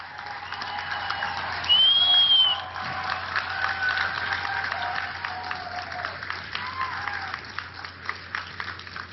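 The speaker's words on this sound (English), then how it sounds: "They deserve our applause." An outdoor audience at a Ground Zero speech in New York claps in sustained, crackling applause, loud and close, peaking near the start and then tapering, with a few whistles mixed in.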